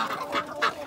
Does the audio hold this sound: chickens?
yes